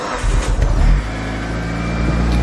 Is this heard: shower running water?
no